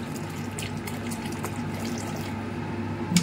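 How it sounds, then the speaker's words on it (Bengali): Water poured into a pot of spiced dal during home cooking, a steady close trickling and splashing that runs continuously with a small splash near the end, no talking. "দিয়ে দিলাম জল"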